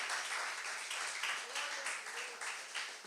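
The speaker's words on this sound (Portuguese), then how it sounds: "Então vamos aplaudir o Senhor por causa disso." A church congregation applauds during a sermon, a steady wash of many hands clapping at moderate distance, sustained throughout at a fairly faint level.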